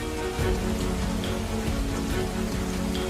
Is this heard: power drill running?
no